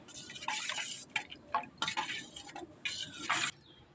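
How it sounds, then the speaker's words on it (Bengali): A spoon stirs chia seeds in cold milk inside a glass, tapping and clinking against the sides in quick irregular bursts, close up and fairly quiet over a faint background hiss. "এবার এই দুধটা দিয়ে কিছুক্ষণ ধরে নাড়িয়ে চাড়িয়ে নেবো"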